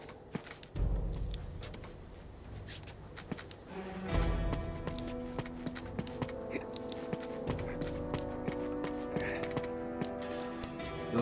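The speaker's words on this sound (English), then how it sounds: "Now all we need is a horse." Hooves clip-clop in the Uncharted 2 video game, sharp uneven hoof strikes over a busy soundscape of game effects and a low rumble, moderately close and fairly quiet.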